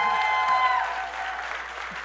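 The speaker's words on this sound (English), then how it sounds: "Round of applause." A PechaKucha Night audience applauds an MC being introduced, a brief steady patter of clapping from a crowd at moderate distance.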